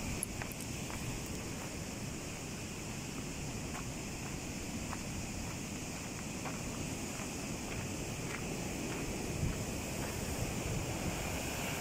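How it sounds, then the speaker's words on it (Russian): Water rushing over rocks on all sides along a river in Karelia, a steady broadband roar close by with no voices. "Со всех сторон вода течет."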